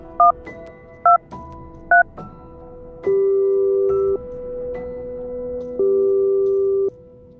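Three quick keypad beeps, followed by two long, steady ringback tones from a phone line, separated by a short pause.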